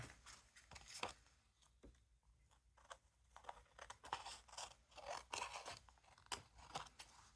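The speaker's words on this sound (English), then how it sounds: "So, I'm going to trim off this excess." Scissors snip and crunch through excess washi tape on a craft board, a series of close, quiet cuts at an uneven pace with no talking.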